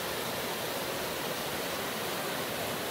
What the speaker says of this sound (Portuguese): uma das cachoeiras mais lindas do sul de Santa Catarina